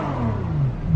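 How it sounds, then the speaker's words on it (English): A Ferrari 812 Superfast, sitting in neutral, gets a quick rev: the engine note climbs and swells over about a second, heard from inside the car with the windows partly down. "And let me give you guys a quick rev."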